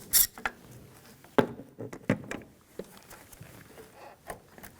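Metallic clinks and light rattles as a 10mm socket loosens the negative battery terminal on a 2010-2017 Chevrolet Equinox 3.6L, a few sharp close taps with quieter handling sounds between them, no talking.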